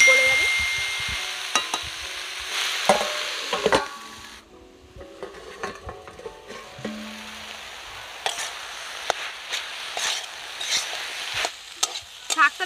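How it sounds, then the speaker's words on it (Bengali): Leafy greens fry in a hot pan with sizzling throughout as a spatula stirs, scrapes and clinks against the metal in scattered strokes, with one quieter stretch midway. "নেড়ে দিয়েছি, এবার একটু ঢাকা দেবে, তাহলে শাক কিন্তু একদম সিদ্ধ হয়ে যাবে আর গলে যাবে।"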